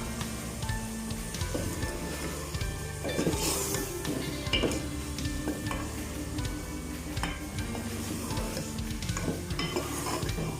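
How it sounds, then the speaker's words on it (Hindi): Chicken and potatoes fry and are stirred in a pan, with steady sizzling under repeated scraping and clinks of a spoon against the metal, close and continuous, no voices. "हम चिकन को भूनेंगे।"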